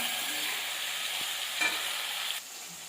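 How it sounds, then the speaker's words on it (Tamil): Gentle sizzling of tomatoes sautéing in a pan with a light stir, steady hiss that drops slightly at the end. "நல்லா வதங்கட்டும்."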